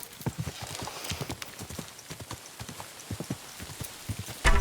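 Horse hooves clip-clop at a fast gallop in Kingdom Come: Deliverance 2 during a horse race, a quick uneven drumming of hoofbeats, fairly quiet, ending in a sudden louder thump.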